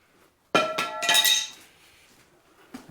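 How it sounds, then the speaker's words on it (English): A hammer drops onto the floor of a stone barn under renovation, one sharp metallic clang followed by a few bouncing clinks and a ringing decay, then near quiet. "That's hammer falling on the floor"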